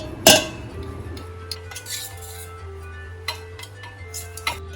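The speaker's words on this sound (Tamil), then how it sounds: "இப்போ இதோட நம்ம நுணுக்கி வச்ச எள்ளு வெல்லம் கலவையை இதில் சேர்த்து நம்ம ஒன்றா மிக்ஸ் பண்ணுறோம்" Ragi flour being mixed with crushed sesame and jaggery in a metal vessel, one sharp clink followed by scattered faint scrapes and taps over a quiet low hum.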